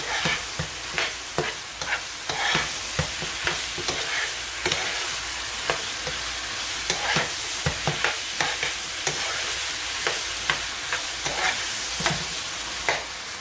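Minced garlic with chopped onion is stirred in a hot pan for a meat lasagna, with repeated rhythmic scraping strokes over a steady background sizzle.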